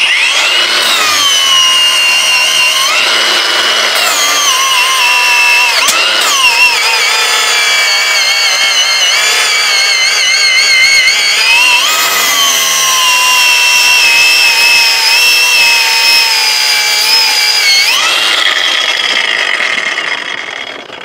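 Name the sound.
cordless angle grinder cutting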